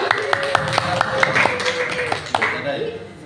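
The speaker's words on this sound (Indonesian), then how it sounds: "Tepuk tangan buat kita semua." Scattered applause from students in a classroom, with distinct claps ringing out at uneven intervals beneath a teacher's voice.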